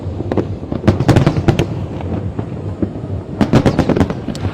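Fireworks burst over Hong Kong for the 2024 Chinese Lunar New Year show, loud sharp bangs in quick clusters with gaps between volleys and a crackling haze behind them.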